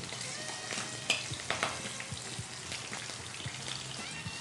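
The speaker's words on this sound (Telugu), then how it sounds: "నేను ఇక్కడ ఇటు సైడ్ పచ్చిమిరపకాయలు వేస్తున్నాను. కొంచెం ఫ్రై అయిన తర్వాత" Green chilies fry in a hot pan of oil, giving a close, steady sizzle broken by sharp pops and crackles at irregular moments, with no talking.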